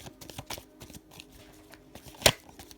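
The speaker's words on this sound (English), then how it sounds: "Let's continue to shuffle." Tarot cards being shuffled by hand, a run of soft papery riffles and flicks ending in one sharp louder snap, close up with no talk.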